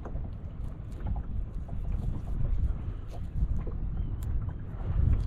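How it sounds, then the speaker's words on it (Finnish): Wind gusts buffet the microphone on a lake as it pushes a small fishing boat sideways, a rough, rumbling low roar that swells and eases over a few seconds, with faint water slaps and no speech. "Tuuli vie vaan vähän venettä sivuun tuulesta."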